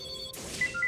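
A telephone rings in bright, high bursts against a quiet background during a League of Legends ranked team session, with a few short electronic tones near the end.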